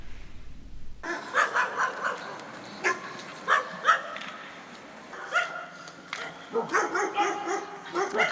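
Three mistreated rescued dogs bark and yip in short repeated bursts, some whimpering, fairly close, in an uneven rhythm that picks up toward the end, with a voice heard in places.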